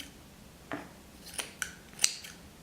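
Scissors snip at a yarn pom pom, giving a handful of quiet, crisp cuts spaced unevenly over a few seconds, close up in a quiet room.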